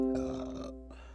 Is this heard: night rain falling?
no